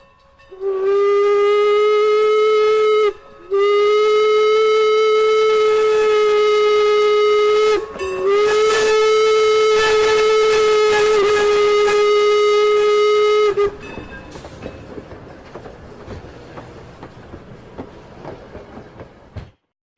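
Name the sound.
passing steam train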